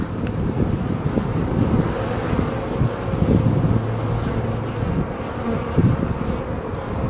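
A dense, continuous drone of many honey bees buzzing close by at a hive, steady and loud, with occasional individual insects passing nearer and some wind noise.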